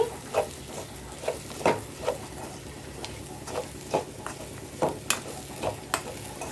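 A spoon stirs spiced cluster bean curry in a pan, with irregular scraping knocks roughly every half second over a soft continuous sizzle, close and moderately loud.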